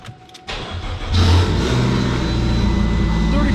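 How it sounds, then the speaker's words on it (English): A crash-damaged Fiat 500 Abarth with the MultiAir engine cranks and fires up, then revs to a loud, sustained roar close by, with a voice heard briefly at the start. "fire that up for just a quick second so we can show that it runs"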